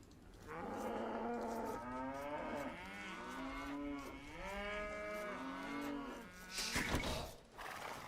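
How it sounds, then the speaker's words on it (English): Several cows in Age of Empires II low out one after another in long, wavering moos, fairly loud and overlapping, with a brief burst of other game noise near the end. "because we have cows."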